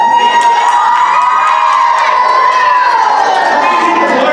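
A crowd of children at a church Vacation Bible School cheers and screams loudly and continuously in a vote for the girls' side of a cheering contest, high voices blending into one sustained roar.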